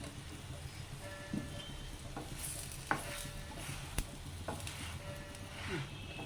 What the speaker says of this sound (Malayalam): അപ്പം ഞാൻ ഇപ്പോൾ നെയ്യ് ചേർക്കണു